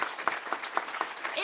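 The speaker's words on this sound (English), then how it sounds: "can we give these ladies a big round of applause up here with me too?" An audience at a community town hall claps in a short burst of scattered, rhythmic applause, moderately close and lasting only a moment.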